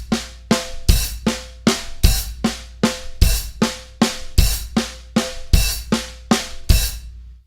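A drum kit plays a slow pattern with the kick drum landing on open hi-hat hits: about a dozen evenly spaced, loud, close hits, each a sharp attack that rings out and fades before the next.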